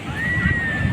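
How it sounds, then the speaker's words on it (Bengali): Sea waves slosh and wash around on the beach at Puri, steady and close, with voices talking over them and a thin high whine running throughout. "সমুদ্রের ঢেউটা দেখো"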